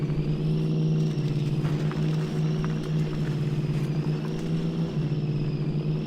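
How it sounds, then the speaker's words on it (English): A heavy truck engine in Spintires: Mudrunner drones steadily at low pitch, labouring and sagging as it struggles to pull into second gear, a continuous rumble with no voices over it. "I think it keeps stalling out because it's reaching, what do you call it, trying to reach for second gear."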